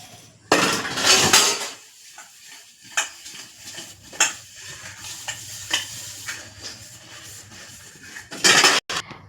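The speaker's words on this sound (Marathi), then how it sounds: "भांडी पडली आहे, भांडी घासून घेते" Dishes, pots and pans are scrubbed and washed at a kitchen sink in an Indian home: scattered clinks and clatters of metal vessels, brief scraping bursts and splashes, close by with quiet gaps between.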